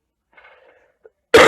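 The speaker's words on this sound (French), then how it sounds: "Je suis désolée de tousser comme ça." A woman gives one sharp, loud cough close by at the very end, after a brief quiet stretch with a faint murmur.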